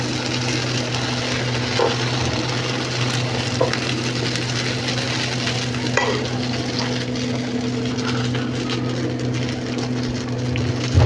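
Uttapam made from leftover idli batter sizzles in oil on a hot tava, a dense, even crackle that stays steady and close with no talking.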